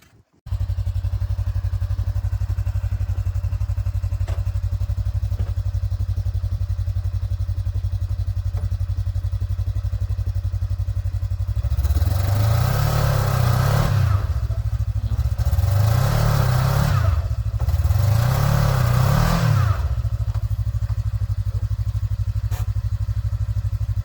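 A Kawasaki KRX 1000 stuck in snow idles steadily and close throughout, then revs hard three times in a row, each surge rising and falling, before settling back to idle.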